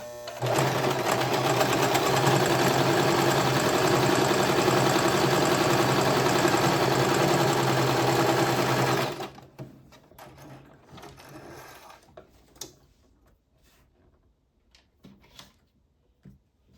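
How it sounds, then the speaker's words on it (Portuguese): Sewing machine stitching a plain seam in fabric, a loud, close, steady mechanical whir that runs for about nine seconds and then stops abruptly, followed by quiet handling clicks and rustles. "E aí, eu vou fazer a costura normal."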